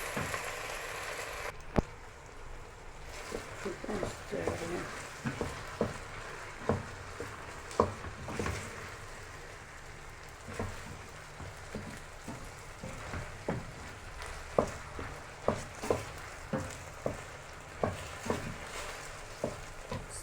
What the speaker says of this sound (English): So stir till you get the result you want.